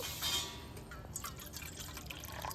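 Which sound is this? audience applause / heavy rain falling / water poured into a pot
water poured into a pot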